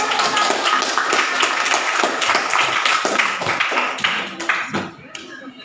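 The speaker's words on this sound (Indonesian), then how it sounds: "Oke, tepuk tangan." A group of people clap their hands in a classroom, the claps loud and dense for about four seconds before trailing off into a few scattered taps at the end, with voices mixed in.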